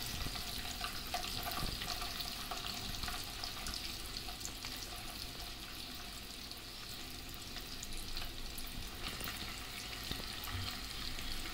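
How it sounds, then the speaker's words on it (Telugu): Eggs frying in a pan with turmeric and chili powder, a steady close sizzle and crackle of hot oil running throughout with no talking. "ఎగ్స్ లైట్ గోల్డెన్ కలర్ వచ్చే వరకు ఫ్రై చేసుకోవాలి"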